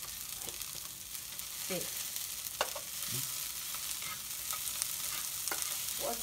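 Kimchi fried rice with meat frying in a pan, a steady sizzle with scraping stirs at irregular intervals, close and moderately loud, with a brief spoken word.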